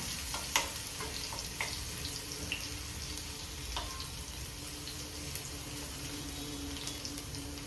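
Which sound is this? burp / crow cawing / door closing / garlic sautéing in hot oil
garlic sautéing in hot oil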